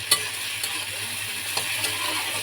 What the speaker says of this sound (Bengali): হয়ে গেছে চিংড়িটা ভাজা।